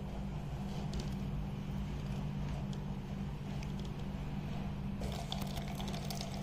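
Rainwater pours through a pipe into a collection tank for rainwater harvesting, a faint, continuous trickling flow with a low background hum that brightens into a stronger splash near the end.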